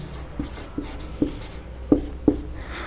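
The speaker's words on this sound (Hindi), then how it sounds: "तो हम लोग यहाँ पे पहले तो फॉर्मूला लिखेंगे" Pen writing a polynomial maths formula on paper: a faint continuous scratch with five distinct taps as strokes land, close and quiet, unevenly spaced, with no voice.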